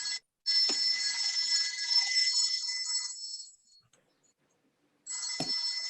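A telephone rings with an incoming call during a budget committee meeting, loud electronic trilling bursts that stop for about a second and a half, then start again, with no talk over them.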